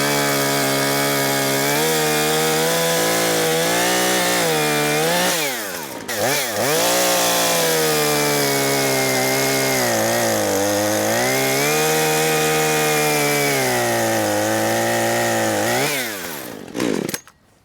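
A Husqvarna 130 chainsaw roars loudly and continuously as it cuts through wood, its engine pitch rising and dipping under load, then cutting off at the end.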